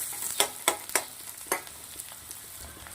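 Onions sauté for multi-cheese pasta with a soft, steady sizzle, punctuated by a few sharp clicks of a spoon against the pan, close and alone.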